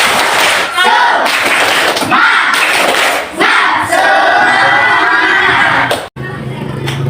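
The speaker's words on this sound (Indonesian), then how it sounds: "Tepuk semangat." A classroom of students performs a rhythmic spirit clap, tepuk semangat, with loud, patterned group clapping and chanting voices that fill the room almost without pause.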